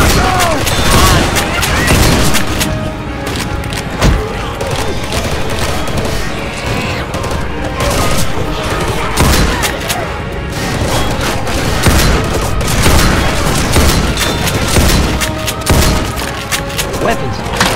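Rapid gunfire fills a Left 4 Dead 2 campaign fight, dense continuous shooting and booms layered together at high volume, with players shouting and talking throughout.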